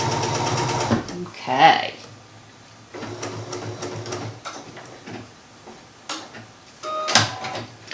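A Bernina sewing machine fitted with the leather roller foot #55 runs in short bursts of fast, even mechanical stitching, loud and close, with a person speaking briefly between runs.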